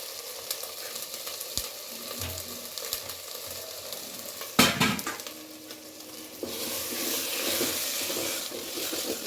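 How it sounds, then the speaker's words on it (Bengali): Ground spices and chilli powder stirred and sautéed in hot oil for a duck curry, with a steady close sizzle, scraping spoon strokes against the pan, a sharp clatter midway and louder frying toward the end. "এখন আমরা মশলাগুলোকে ভালোভাবে নেড়ে চেড়ে অনেকক্ষণ লাগিয়ে কষিয়ে নিব"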